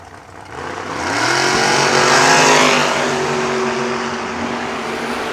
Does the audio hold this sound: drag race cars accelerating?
yes